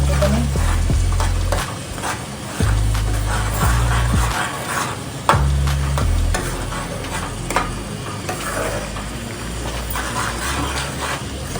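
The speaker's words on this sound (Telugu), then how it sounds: "అడుగంటకుండా ఇలా ఈ నూనెలో ఇలా ఈ పేస్ట్ని పచ్చదనం పోయేంత వరకు కలుపుకోవాలి" A spoon stirs bitter gourd filling paste in hot oil in a pan, with soft scraping strokes over a steady sizzle and low rumbling clatter, close and continuous for several seconds.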